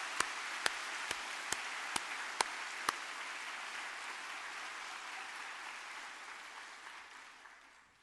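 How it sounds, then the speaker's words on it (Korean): A church congregation applauds during a New Year's Eve worship service: a sustained wash of clapping with several sharp, distinct claps near the start, gradually thinning and fading toward the end. "우리 하나님께 큰 감사와 영광의 박수를 한번 올리겠습니다"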